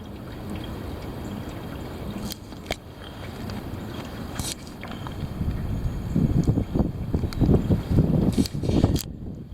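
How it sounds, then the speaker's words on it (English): Heavy wind roaring and buffeting the microphone, a low rumbling rush that holds steady at first, then surges louder in gusty bursts before easing off at the end. "The heavy wind. Here it comes. The heavy wind."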